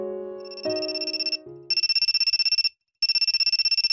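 A phone ringtone chimes in the visual novel game Amnesia: Memories, opening with a short melodic phrase and then repeating in steady, loud electronic ring bursts separated by brief silences, with no talking.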